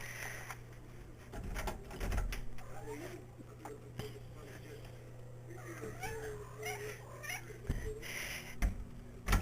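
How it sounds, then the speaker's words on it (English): A black Burmese cat scratches at a door and gives several soft meows at close range. The sounds come over a steady low hum, and a faint voice can be heard at moments. "let my best little friend Charlie, my black Burmese cat, into the room with me because he was scratching at the door."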